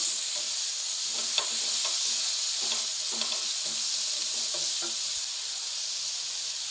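Carrots sizzling in hot oil in a pan while being stirred for chicken vegetable pasta, a steady loud hiss throughout with soft scraping stir strokes and light clinks recurring every second or so.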